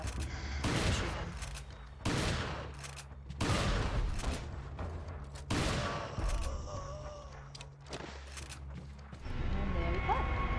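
Rapid bursts of gunfire in a video game as an enemy is gunned down, loud, clustered volleys repeating roughly every second or so with short gaps between them.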